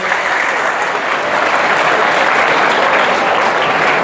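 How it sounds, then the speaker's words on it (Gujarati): Sustained, loud audience applause at a school children's event, steady and dense throughout with no clear pauses. "જોરદાર તાળીઓથી આપણે"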